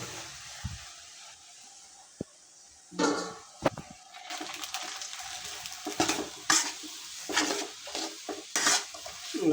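Semolina, cashews and raisins go into a pan for sooji halwa, heard as a spoon scraping and stirring against the pan with clinks and soft pouring, close and irregular, with faint sizzling and no talk.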